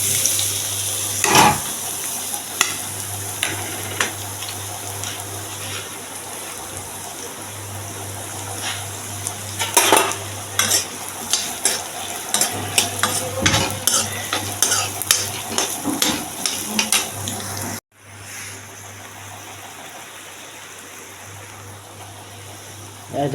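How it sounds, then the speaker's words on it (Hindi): Chopped onions frying and sizzling in a pan in a home kitchen, stirred with a utensil in steady repeated scrapes and clinks over a constant sizzle, close and fairly loud, ending abruptly into quieter background hiss. "डाल देते हैं इसमें प्याज। ये कटी हुई प्याज है।"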